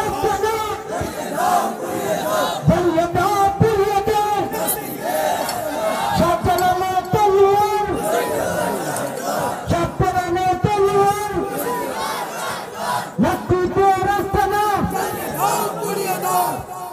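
A large crowd at an Islamic religious sermon chants slogans loudly and rhythmically in unison, with a preacher's amplified voice leading and calling between the chanted responses, all heavily reverberant.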